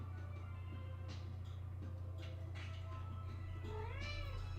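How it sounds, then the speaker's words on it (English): Two young sister cats squabble indoors, with scattered short meows and a rising, drawn-out yowl near the end over a steady low hum. The cats sound moderately close, and no one speaks. "Epic cat battle."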